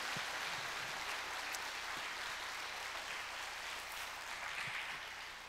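A church congregation at a Friday prayer meeting applauds, producing a faint, distant, continuous patter of clapping that lasts several seconds.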